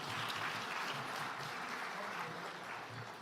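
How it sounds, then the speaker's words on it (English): Audience applause at a college president's gala, a steady wash of clapping from a crowd in a hall that holds for about three seconds and eases slightly toward the end. "Let's give our Bennett Bells another round of applause."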